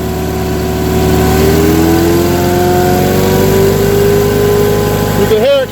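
Engine of an Ingersoll 4120 driving a hydraulic chipper/shredder rises gradually in pitch as the throttle is eased up, loud and close, ending in a quick surge of revs.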